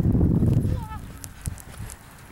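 Horse hooves on an arena surface in a freestyle ride, a few soft muffled footfalls after a trainer calls out commands, the hoofbeats faint beneath the voice.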